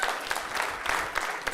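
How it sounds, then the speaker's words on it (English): Comedy-show audience clapping during a stand-up special, a brief burst of many hands with a busy, uneven patter. "Round of applause if you have siblings."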